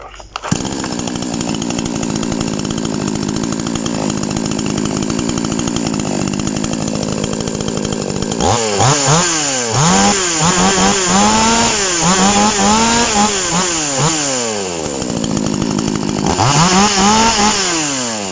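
An Arto chainsaw engine, being tuned with the air filter fitted, runs loud and steady at idle, then revs up and down repeatedly in rising and falling surges before settling back.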